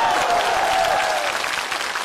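Audience applause erupts at a comedy stage show, a loud, thick roar of clapping from a large crowd that holds steady across the whole moment.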